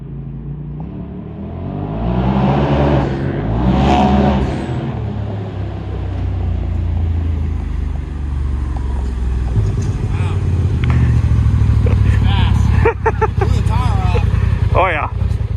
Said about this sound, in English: today we have the shop car on the dyno